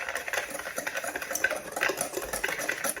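A whisk stirs granulated sugar and cornstarch in a bowl, a quick, steady, close rattling scrape that runs without pause for a few seconds.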